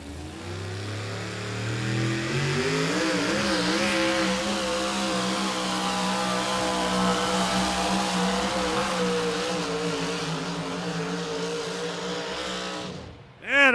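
Close, loud engine of a home-built race truck revving hard through a run at a spring truck jam, its pitch climbing and wavering in sustained roaring pulls before cutting off abruptly at the end.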